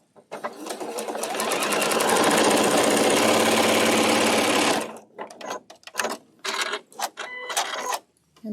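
A sewing machine runs steadily for several seconds while stitching a Dresden quilt block, a loud close rapid mechanical chatter, followed by short stop-start bursts of stitching.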